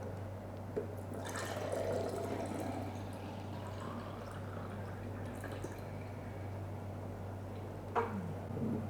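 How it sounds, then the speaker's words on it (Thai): Fresh pear and red apple juice pouring from a Hurom H200 cold-press juicer, a faint continuous trickle and drip over a steady low motor hum, with a brief splash near the end. "เราก็จะได้น้ำผลไม้ที่สดๆเลยนะครับ"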